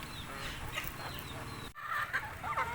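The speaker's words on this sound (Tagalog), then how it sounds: "hindi na nakapag-antay yung manok, kumain na" Chickens cluck and chirp close by while eating leftover rice and coconut pulp, busy and overlapping, with a faint pecking bustle underneath.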